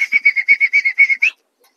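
Giribaz pigeons in a loft give a quick run of about a dozen short, even calls, close and clear, then stop into silence.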